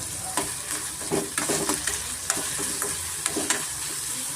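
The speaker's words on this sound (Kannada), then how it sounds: "ಮೀಡಿಯಂ ಫ್ಲೇಮಲ್ಲೇ ಸ್ವಲ್ಪ ತರಕಾರಿ ಎಲ್ಲ ಚೆನ್ನಾಗಿ ಫ್ರೈ ಆಗಬೇಕು" Mixed vegetables fry in a pan over medium flame with turmeric, asafoetida and salt, giving a steady close sizzle broken by repeated scraping stirs of the spoon.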